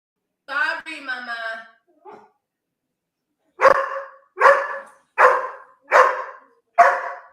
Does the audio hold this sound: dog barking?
yes